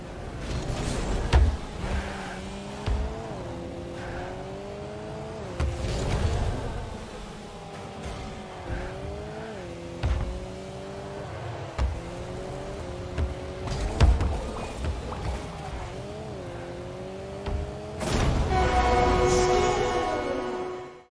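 Pre-release ball sounds from the game Rocket League: a repeating swooping whoosh that bends up and down with the ball's movement, broken by several sharp thuds of hits, ending in a denser burst of noisy impact.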